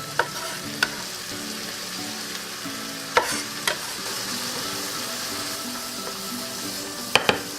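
Tomatoes sizzle in a hot pan with shrimp for a linguine dish, a steady frying hiss running throughout, punctuated by a few sharp utensil clicks and knocks against the pan.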